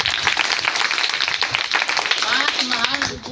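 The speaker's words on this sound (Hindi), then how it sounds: "चलिए एक बार ताली हो जाए" Clapping from a classroom audience at a Hindi lesson on the Bharat Ratna, steady and close throughout, with a voice speaking over it near the end.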